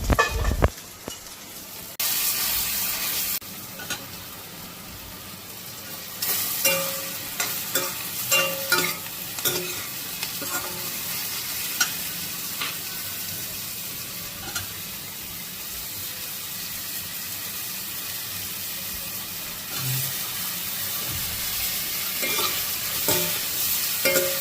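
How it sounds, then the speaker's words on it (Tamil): Mushroom, capsicum and cauliflower sauté in a hot pan, a steady sizzle running throughout with frequent scraping and stirring clatters, close and fairly loud, no voices. "மஷ்ரூம், கேப்சிகம், கோபியோட நம்ம இந்த சாத்தே பண்ணுற ப்ராசஸை ஃபினிஷ் பண்ணுறோம்"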